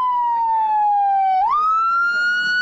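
An emergency vehicle siren wails loud and close, a single sustained tone that slides slowly down, then jumps up and holds steady, with no voices over it.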